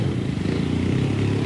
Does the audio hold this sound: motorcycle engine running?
yes